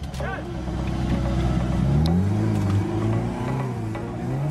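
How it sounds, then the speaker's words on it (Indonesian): Cars crawl one after another over a rough landslide-damaged track, engines droning loudly and close, with one rising in pitch as it strains and revs. Faint voices can be heard beneath the engine noise. "Satu persatu mobil mencoba melewati jalur longsor."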